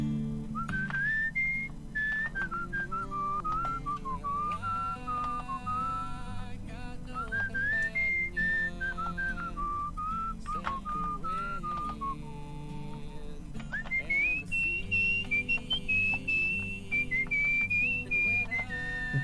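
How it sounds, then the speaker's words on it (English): A character walking in the game Where the Water Tastes Like Wine whistles a continuous, wandering melody over a soft low musical backdrop, the tune clear and steady for the whole stretch. "my insistence of walking around and whistling instead of hitchhiking"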